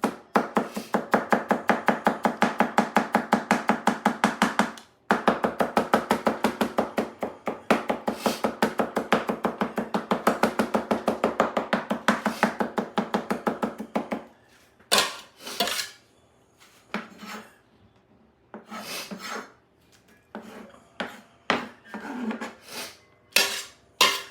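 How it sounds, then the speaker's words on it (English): Garlic chopped with a knife on a board makes rapid, rhythmic tapping in long steady runs, then slower scattered cuts and scrapes, close and without talking. "So now that I have my garlic, I'm just gonna chop it up even more."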